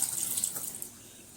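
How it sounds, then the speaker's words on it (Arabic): Water pours and drains off soaked potatoes in a kitchen, a short close splashing trickle that fades out after under a second. "هجيب البطاطس صفيها الاول من الميه بتاعتها"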